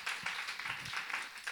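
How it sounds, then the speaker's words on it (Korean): Applause from a church youth congregation: a short burst of brisk clapping from a modest group, fairly soft and steady throughout. "우리 박수 한번 주세요"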